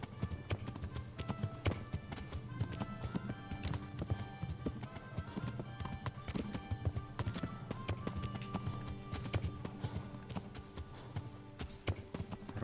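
Horse hooves clip-clopping steadily at a gallop while riding in Kingdom Come: Deliverance, a continuous rhythmic pounding mixed with tack rattle and ambient game sound.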